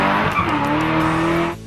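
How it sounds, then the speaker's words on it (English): A Hennessy Camaro HPE 650 roars loudly up close, its exhaust note rising in a sustained, squealing wail before cutting off abruptly near the end. "that absolutely ridiculous exhaust note"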